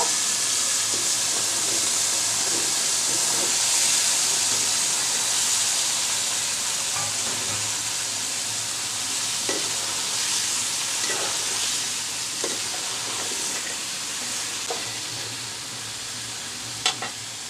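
A fish and bottle gourd (lau) curry broth bubbles and sizzles steadily in a pan, close and fairly loud, with a few sharp clinks of stirring toward the end and no talk.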